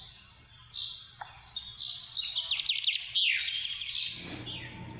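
Birds sing in the Black Forest in Germany, with loud, bright chirps and trilling phrases that overlap densely over a faint, low background hum.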